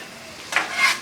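Bacon frying on a Blackstone griddle, a brief hissing sizzle that swells in two short bursts, close and fairly loud with no talk.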